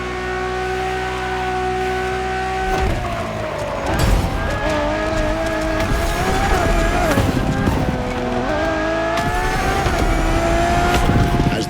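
A Ferrari Enzo supercar in the racing game The Crew Motorfest roars close and loud, its engine note climbing and dropping through gear changes with brief tire squeals, continuous for the whole stretch.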